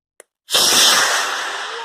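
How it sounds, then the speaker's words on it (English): An F-50 rocket motor fires in a 50 mm wide 3D printed model rocket, starting with a short click, then a loud, steady roaring hiss that carries on without a break. "giant rocket engine, a really big one"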